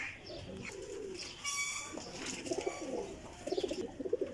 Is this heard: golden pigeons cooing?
yes